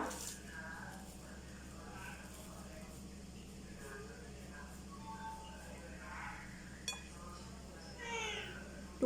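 A house cat meows faintly several times in a quiet home, soft calls under a steady low hum with a few small clinks.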